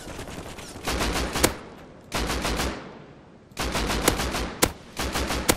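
Automatic gunfire from a helicopter fight in the Rust video game comes in three loud, close bursts of rapid shots separated by short pauses, with no voices.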